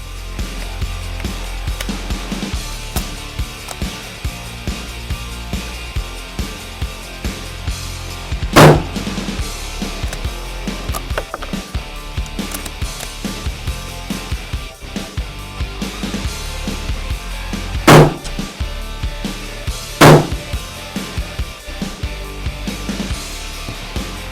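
A Heym SR21 Concord rifle fires Federal Power Shok 150 grain rounds, three sharp, loud reports standing alone over a low steady background, the first followed after a long pause by two shots about two seconds apart.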